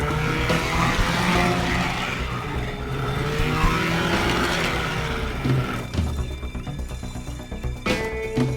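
Engine of a fast little boat in the video game Teardown, a loud continuous motor drone with shifting pitch and some clattering knocks near the end.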